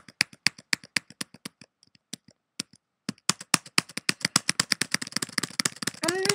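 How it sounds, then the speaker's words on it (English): Computer keyboard clicked rapidly during Minecraft gameplay, a steady stream of close, crisp key taps that pauses briefly and then returns faster and denser. "I will not be stopping clicking on this bloody keyboard."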